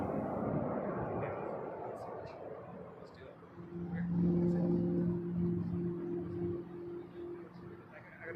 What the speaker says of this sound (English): up next, we have an Embraer 195 E2,